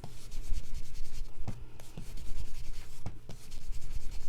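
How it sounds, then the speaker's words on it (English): A blending brush sponges ink onto the cut edges of paper for an embossed card, producing steady scratchy rubbing strokes in short repeated passes, close and fairly loud. "I took my blending brush and just sponged them"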